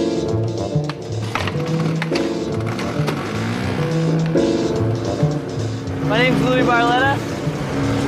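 A 1979 Piaggio Vespa 125 scooter being ridden, its small engine buzzing steadily and shifting in pitch as it moves, with voices talking over the ride.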